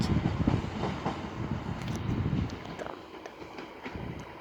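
A Flirt electric multiple unit train departs from Warszawa Wschodnia station in Warsaw, a steady rumbling roll close by that is loud at first and then eases as it pulls away, with faint clicks over the top.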